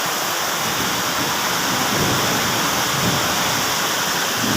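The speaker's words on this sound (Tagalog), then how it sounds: "Mukhang pag ito'y tuloy-tuloy yung pag-ulan, talagang siguro babaha." Heavy, steady rain pours outdoors during a downpour, with water dripping through a leaking roof; a loud, continuous wash of falling water fills the whole stretch without any talk.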